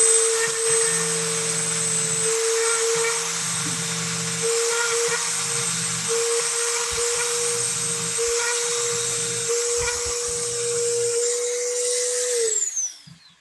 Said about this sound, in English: Never used this kind of Dremel.